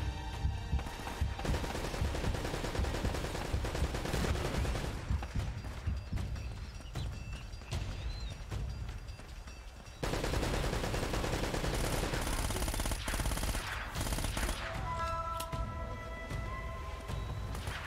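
Gunfire in Uncharted: Drake's Fortune, heard as continuous loud combat with rapid repeated shots over a busy game soundtrack and effects.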